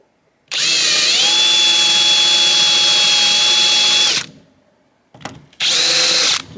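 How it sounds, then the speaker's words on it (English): A power drill fitted with a countersink bit spins up and bores into wood for several seconds with a high, steady whine, then stops; a brief bump follows before a second short burst of drilling. "Countersunk and pre-drilled."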